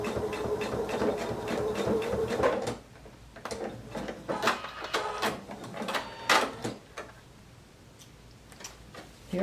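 A sewing machine stitches a quilt, its steady mechanical whir running close by and then stopping, followed by scattered clicks and rustles as the fabric is handled.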